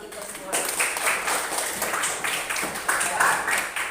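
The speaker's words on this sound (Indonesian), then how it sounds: "Tepuk tangan kita semua." A classroom of students applauding, a dense patter of many hands clapping throughout, moderately loud, with some voices mixed in.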